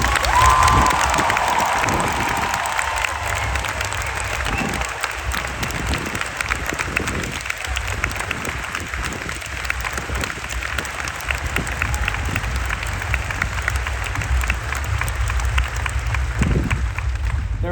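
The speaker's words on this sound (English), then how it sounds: "give a huge round of applause to all the anonymous investigators" Sustained applause from a large crowd at a talk at Vegan Camp Out 2023, dense clapping that continues steadily throughout, with occasional cheers rising above it.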